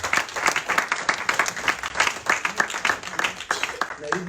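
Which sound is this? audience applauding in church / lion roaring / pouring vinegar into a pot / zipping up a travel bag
audience applauding in church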